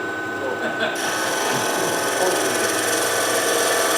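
A skew chisel cuts wood on a turning lathe, a continuous close hiss and rasp that swells slightly after the first second and runs steadily to the end, with a voice talking over it.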